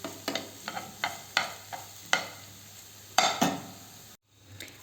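A spoon stirs a cooked mixture in a pot in a series of short, scraping strokes at an irregular rhythm, close and fairly quiet, ending with a brief silence and a faint final scrape.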